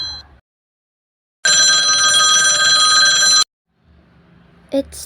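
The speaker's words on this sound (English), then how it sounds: "Why did it stop ringing all of a sudden?" A telephone bell rings loudly in one continuous burst of about two seconds, preceded and followed by near silence, with a faint low murmur and a short sound near the end.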